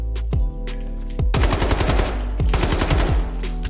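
Rapid automatic gunfire from the video game Delta Force, loud close bursts of sharp shots with echoing tails, firing in quick strings with short pauses between.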